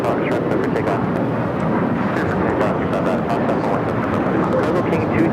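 An American Airlines Boeing 737-800 jet takes off at LAX, a steady broadband engine roar that holds loud and unbroken throughout, with a faint radio voice underneath.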